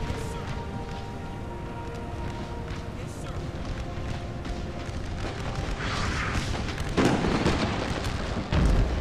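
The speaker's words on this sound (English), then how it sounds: "Mortar's just going off everywhere." Mortar and artillery fire in the Napoleon: Total War American Civil War mod: steady rumbling battlefield booms and bursts throughout, with a few louder blasts near the end, under continuous game noise and talk.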